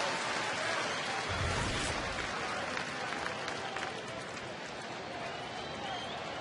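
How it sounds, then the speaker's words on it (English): Baseball stadium crowd at a Angels at Tigers game in Detroit, a steady dense roar of cheering and applause that swells briefly and holds throughout, distant and broad with faint talk underneath. "Here comes the crowd again."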